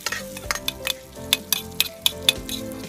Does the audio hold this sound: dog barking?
no